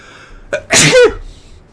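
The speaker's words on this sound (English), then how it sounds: "I got a sneeze" A single loud, close human sneeze bursts out with a short intake breath first, then the sharp explosive release, against an otherwise quiet background.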